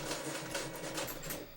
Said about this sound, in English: That printer's got a cycle.